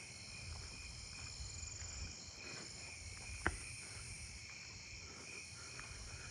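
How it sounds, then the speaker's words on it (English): A Davis's tree cricket chirps at night in a residential neighbourhood, a faint steady high trill running continuously beneath low background rumble, with one brief sharp click partway through. "that sounds like another Davis's tree cricket right there"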